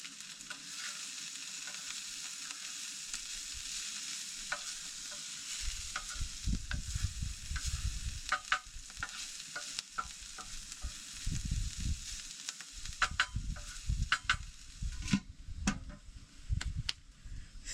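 Brussels sprouts seasoned with olive oil and ribeye frying together in a pan on a camp stove, a steady bright sizzle with intermittent scraping and stirring clatter, close and without talk.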